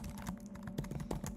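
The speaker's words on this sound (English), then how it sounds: "I'm typing it. I can't do it with trackpad." Typing on a laptop keyboard, close up, with a steady patter of quick key taps and a few slightly harder strokes, no talking.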